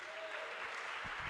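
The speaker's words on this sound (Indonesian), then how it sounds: "Kasih tepuk tangan buat Tuhan Yesus." Applause rings out at a church healing service, a steady, dense wash of clapping from the congregation that holds throughout, with no break and no voice over it.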